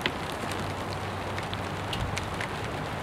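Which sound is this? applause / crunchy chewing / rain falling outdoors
rain falling outdoors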